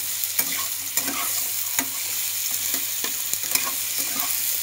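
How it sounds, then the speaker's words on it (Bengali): Bottle gourd and pointed gourd are stirred together in hot oil, a continuous close sizzle broken by sharp spatula clicks and scrapes against the pan at irregular intervals. "তেলের ওপরে আবার একটুখানি পটলের সাথে একসঙ্গে নেড়ে নিচ্ছি লাউগুলো"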